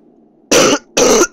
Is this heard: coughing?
yes